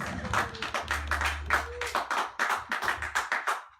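A small audience at a live show claps sparsely and somewhat unevenly in rhythmic handclaps. The clapping is fairly quiet and close, over a low background hum.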